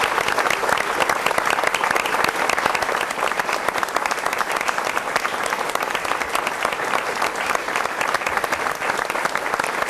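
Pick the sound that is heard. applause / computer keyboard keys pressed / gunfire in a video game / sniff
applause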